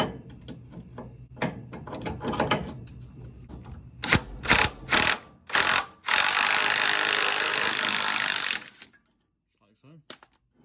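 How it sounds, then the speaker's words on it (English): A pitman arm puller being worked on a 1977 Ford F150 4x4 steering gearbox, with clicking ratchet strokes and metallic knocks followed by a long steady grinding or rubbing burst, all close up. "And then you got a pitman arm puller."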